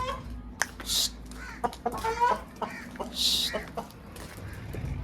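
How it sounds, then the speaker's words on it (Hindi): A rooster crows loudly and close by, with hens clucking around it and a voice speaking in the background. "यहाँ पर भी मुर्गा खड़ा है, ये भी शोर मचाया हुआ है।"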